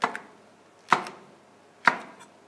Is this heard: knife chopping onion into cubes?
yes